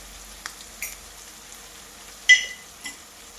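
Prawns mixed with pepper cook in a pan in an old village kitchen, a faint low sizzle broken by a few soft spoon-scrapes and clinks as they are stirred.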